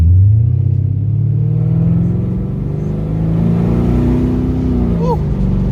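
A Mercedes CL550 coupe taking a hilly corner hard, its big engine droning loudly with a rising rumble as it accelerates, close and steady throughout; a brief squeal-like chirp near the end, no voices.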